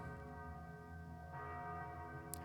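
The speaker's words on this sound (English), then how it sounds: "that bell rings incessantly" Repeated bell tolling from the Thief II video game, a steady dense ringing with sustained overlapping tones that carries on without pause, no voices.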